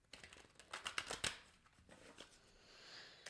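Mystic Moon oracle cards being shuffled by hand, a soft, quiet run of riffling and flicking card sounds in close, uneven bursts, with no talking.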